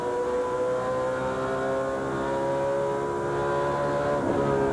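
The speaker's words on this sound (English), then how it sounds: "Now he's full throttle right there." A NASCAR Craftsman Truck Series race truck at the Milwaukee Mile roars at full throttle, its engine a loud, sustained, tonal drone that holds steady and then shifts slightly near the end.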